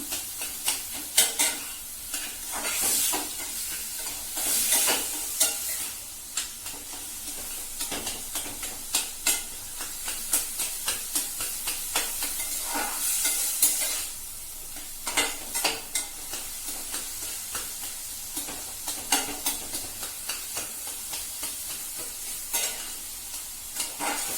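Grated pumpkin halwa fries in a pan under a low, steady sizzle, broken by repeated scraping strokes of a spoon and light metal clinks against the pan, close up and fairly quiet.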